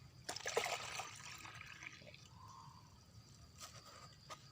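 Water is poured into a container while planting a sprouted coconut bonsai, a faint, soft trickle and splash near the start that thins to a quiet dribble against low background hiss.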